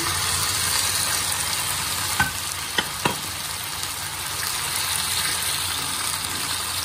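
Chicken pieces stir-frying in a pan with golden-brown garlic and ginger, a loud, dense sizzle throughout with a few sharp clicks from the spatula.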